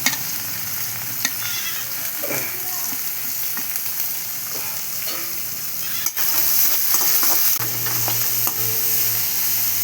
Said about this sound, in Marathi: कांदा आता आपण चांगला परतून घेऊया.